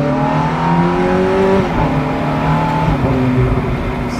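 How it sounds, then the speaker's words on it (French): Ferrari V8 engine warming up, holding a steady idle with layered harmonic tones that rise and fall through a couple of moderate revs, loud and close with no talk over it. "Le son. Ah, le V8 là."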